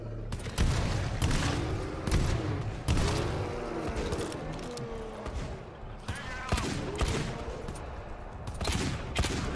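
Dense bursts of gunfire from a deployed turret and close-range shotgun blasts in the video game GTFO, loud and continuous with sharp repeated shots layered over a heavy low rumble.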